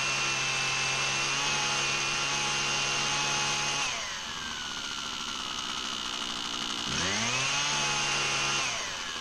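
The 2-cycle engine of a Husqvarna 122HD45 hedge trimmer runs loud and close, holding a high buzzing whine, dropping sharply to a lower idle, then revving back up to full speed.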